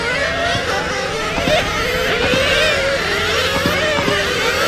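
Race cars on the track during an IROCC race produce a steady, buzzing engine drone that rises and falls slightly as they run the straightaway, continuous and fairly loud throughout.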